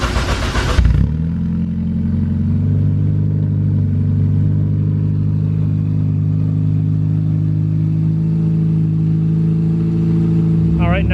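Honda Civic EF with a K20 engine and full 3-inch titanium exhaust with almost no muffler, idling steadily up close, a loud, even drone after a brief burst of noise at the start.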